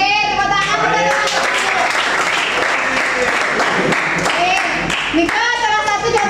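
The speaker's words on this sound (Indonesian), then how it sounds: "oke, tepuk tangan." A small group claps their hands together in a classroom teaching session, a brisk burst of applause with children's and adult voices talking through it.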